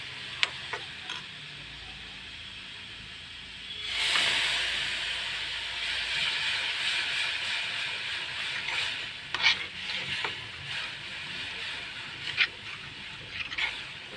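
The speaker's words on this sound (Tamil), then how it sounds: "கொஞ்சமாக ஊற்றி நல்லா இந்த மாதிரி இதிலே கலக்கிக்கணும்" A homemade hair dye mixture is stirred in a warm iron pan, giving a soft hissing sizzle that rises after a few seconds, with intermittent scraping clinks of the utensil against the metal.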